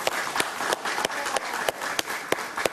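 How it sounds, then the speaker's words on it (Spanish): Sparse, fairly quiet applause from a talk-show studio audience, with individual sharp claps standing out at an uneven rhythm over a soft wash of clapping. "Un aplauso para ella,"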